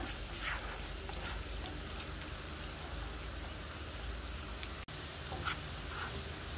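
Curry leaves sauté in hot oil for buttermilk chicken, giving a soft, steady hiss of frying with faint crackles, quiet and unbroken throughout.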